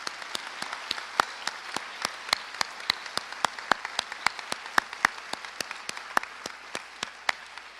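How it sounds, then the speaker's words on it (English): Sparse applause at a school mechanical lab dedication, a few people clapping in distinct, irregular sharp claps that stay fairly quiet and steady throughout. "Please join me in applause and congratulating these people for their help."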